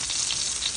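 Rainbow trout frying skin-down in a pan as the skin crisps, giving a dense, steady sizzle close by with no talk over it.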